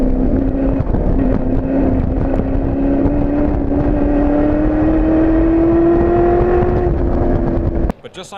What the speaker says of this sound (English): that car is revving in its own, so maybe something wrong with the gears or the clutch